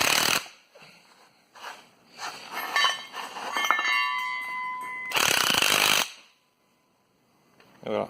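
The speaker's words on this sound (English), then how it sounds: "then he's gonna put the nut, and we're just gonna bring it down with the impact" A pneumatic impact wrench hammers a nut onto the top hat of a Subaru DMS rally coilover in loud, close, rattling bursts, with metallic clinks and pauses between them.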